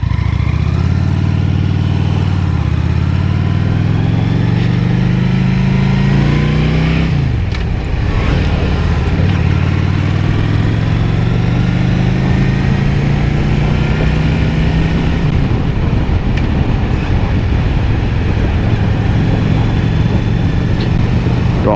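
A liquid-cooled Honda Shadow motorcycle being ridden, its engine loud and steady, climbing in pitch through the gears with a clear shift partway through. The rumble is close and continuous, with no talking.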